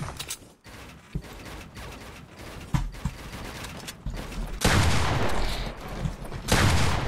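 Bursts of video game gunfire in a 1v1 PC shootout, with repeated sharp shots and clattering mechanical action stretching across the stretch, growing louder and denser in the second half.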